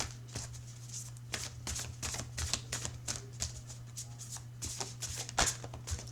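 Tarot cards being shuffled by hand, a close crisp riffling and flicking in repeated bursts against a steady low hum, with brief pauses between passes.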